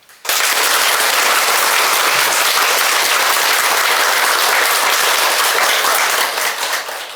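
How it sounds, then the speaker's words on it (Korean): Loud, dense audience clapping of thanks erupts almost at once at a Catholic church homily and holds steady for about seven seconds before tapering slightly at the end. "하느님 아버지께 감사의 박수"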